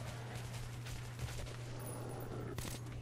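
Gunfire from the video game Metro 2033 comes as faint, rapid bursts of shots, sounding distant and thin over a constant low electronic hum.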